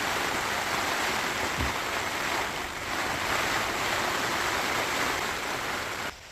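Heavy pouring rain and gusting wind outdoors in the Avalon Wilderness Reserve, a steady loud broadband rush with a brief low thump near the start, no voices.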